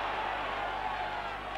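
A rugby league crowd at a 1995-96 Leeds versus Carlisle match roars steadily in appeal for a penalty, a sustained distant wash of voices under commentary.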